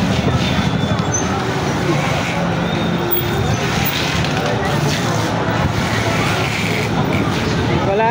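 Motorcycles and street traffic on Evangelista Street in Quiapo make a steady, close roar of engines and road noise that runs without a break.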